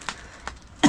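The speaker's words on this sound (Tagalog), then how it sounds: "Ubo na lahat ng tao ngayon." A person coughs, with two short muffled bursts followed by a louder, rougher cough at the end, close by in a quiet room.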